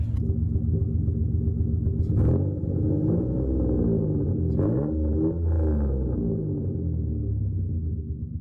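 A project car's engine idles without a catalytic converter, a steady low rumble with harmonic bands that swells slightly in a couple of places, held close and constant throughout.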